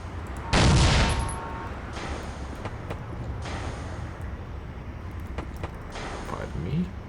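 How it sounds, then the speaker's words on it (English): A powerful pistol fired in the video game Little Black Lies, one loud sharp blast near the start, followed by quieter clatter and fainter sounds, with a voice speaking. "that's a powerful pistol"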